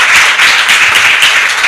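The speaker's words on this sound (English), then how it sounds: "Let's clap for her." Steady applause from a conference opening ceremony crowd, a dense wash of clapping that stays loud and even throughout with no speech.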